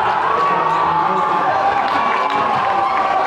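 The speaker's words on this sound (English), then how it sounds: "Great job by the student section to cheer on their classmates" A high school student section cheers at a boys basketball game between Indian Hill and Taylor, making a loud, sustained roar of shouting voices that fills the gym with no break.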